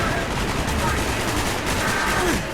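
Rapid gunfire from the Call of Duty Black Ops video game, dense and continuous throughout with layered shots and battle noise under a loud mix.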